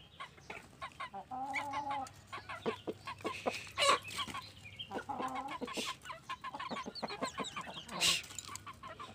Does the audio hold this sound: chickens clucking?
yes